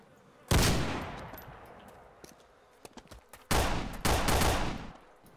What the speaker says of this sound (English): He's shooting me through walls and shit, man.